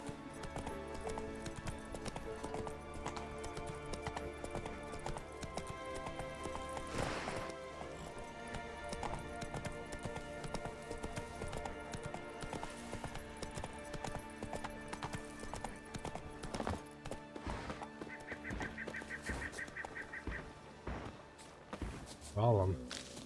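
Roach the horse from The Witcher 3 gallops in a steady, rapid clip-clop rhythm over game music. The hoofbeats stay fairly quiet and continuous throughout, with occasional snorts.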